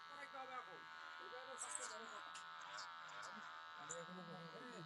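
An electric hair clipper strains through short hair caked with dust and dirt, its steady buzz running continuously beneath a voice.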